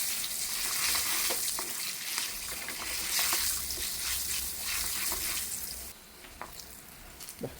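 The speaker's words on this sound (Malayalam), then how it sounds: "ചുവന്ന മുളക് ഇതാ കുറച്ച് വറുത്തിടുമ്പോൾ" Red chillies frying in a pan at home, a steady loud sizzle with scraping stirs running throughout, easing off near the end into quieter crackles and a few sharp taps.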